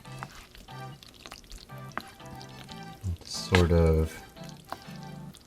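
Macaroni and cheese is being stirred in a pot, with soft wet squelching and a louder sticky slurp partway through as a voice talks over it.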